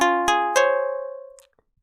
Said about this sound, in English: this is the KS synth, and it sounds like this